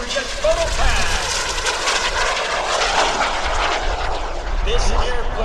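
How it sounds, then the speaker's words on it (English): FLS Microjet, a small jet with a 17-foot wingspan, making a photo pass at the 2015 Greenwood Lake Airshow: a loud, steady roaring engine rush that holds for the whole stretch. "Here's the FLS Microjet photo pass."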